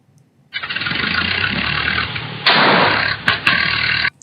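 A car engine cranks and starts, then revs steadily and loudly with a couple of sharp throttle bursts before cutting off.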